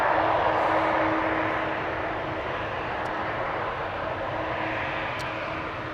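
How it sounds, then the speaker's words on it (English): An Eastern Airways Embraer 190, flying for KLM at Amsterdam Schiphol, gives a moderately distant, even jet roar that eases slightly and stays steady, with no voices. "Eastern Airways, Embraer 190 flying on behalf of KLM, going to Newcastle"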